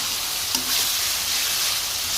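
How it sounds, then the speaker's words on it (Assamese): Tomatoes frying in a pan, a steady, even sizzle that holds at one level throughout, close and unbroken, with no voices. "এইখিনি অকণমান ভাজ লওঁ"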